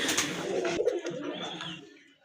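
Pigeons at a pigeon seller's loft give soft cooing calls through most of a couple of seconds, close by, with a little background murmur fading toward the end.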